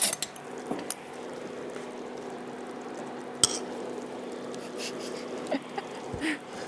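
A fork scrapes and clinks against plates and dishes while creamy mushrooms in sauce are served, with sharp isolated chinks over a steady low kitchen background.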